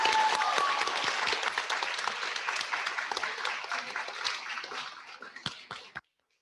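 Sustained applause from a school audience for National Junior Honor Society inductees at the Rochelle School of the Arts, steady dense clapping with a faint voice early on, tapering off and ending abruptly near six seconds.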